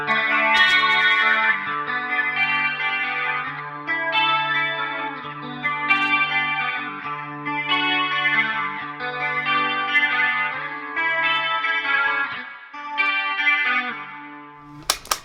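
Electric guitar played through Bias FX software on an 80s clean patch with chorus and echo, ringing chords and melodic notes sustained loudly with no talking.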